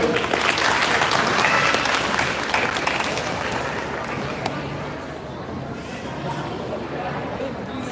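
An audience at a vote of thanks gathering claps together, a dense burst of applause that starts strong and then tapers slightly while continuing steadily to the end.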